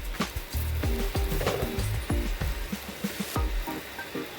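A palak cheela, a spinach pancake, sizzles in a pan with a steady, close crackle, broken up by repeated scraping and tapping of a spatula as it is flipped and pressed.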